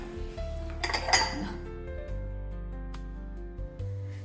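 IKEA coffee mugs clink against each other as they are handled in a kitchen, a few close ceramic knocks peaking early, followed by a lower hum and a faint later tap.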